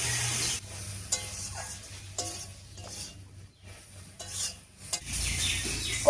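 Taro stems cooking over high heat in a pan as the water boils off: an uneven sizzle broken by repeated spatula scrapes and clinks against the pan, with short quiet gaps and no talk.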